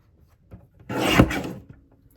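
Card paper sliced on a paper trimmer during card-kit crafting, a single short rasping cut of about half a second, close and fairly quiet, with faint handling noises before and after.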